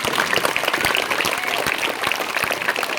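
A crowd of school children claps loudly and steadily for the festival committee at a large Ganesh festival, a dense continuous applause close by with no gaps.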